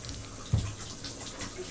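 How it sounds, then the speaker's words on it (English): Tap water runs steadily into a kitchen sink while a potato is rinsed, a soft continuous splash with one brief louder splash, no talking. "just rinse that potato off"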